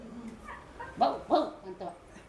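A person imitates a dog barking with a few short, yelping woofs in a loose rhythm, close and moderately loud.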